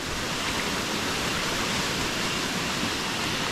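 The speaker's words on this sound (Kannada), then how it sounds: "ಇಲ್ಲೊಂದು ನೋಡಿ ಹೆಂಗೆ ಬೀಳ್ತದೆ ನೀರು ಮುಂದ್ಗಡೆ." Water falls steadily on a coffee estate, a loud, continuous rushing roar like a small waterfall, unbroken and with no voices over it.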